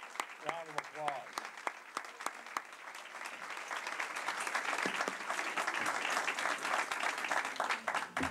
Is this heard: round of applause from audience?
yes